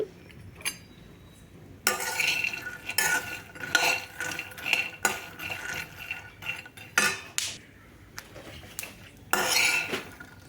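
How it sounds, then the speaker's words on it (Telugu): Peanuts dry-roasting in a pan, stirred with a metal spoon in bursts of rattling, scraping and clinking, close and loud, with quiet pauses between rounds of stirring. "పల్లీలను పచ్చిదనం అంతా పోయేంత వరకు వేపుకోవాలి ఇలా మధ్య మధ్యలో కలబెడుతూ వేపుకోండి"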